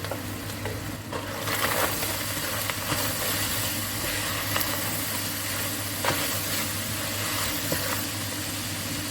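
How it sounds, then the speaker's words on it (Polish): Vegetables and meat fry together in a pot with olive oil, a steady continuous crackling hiss with occasional stirring clatter, close and moderately loud. "I teraz w tym momencie dokładam wszystkie warzywa do garnka, do mięsa i muszę je razem przesmażyć."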